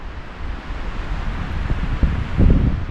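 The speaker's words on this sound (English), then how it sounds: "But it's a little breezy." Steady breezy wind buffeting at a mountain overlook, a broad rushing noise that swells a little toward the end, with no one talking.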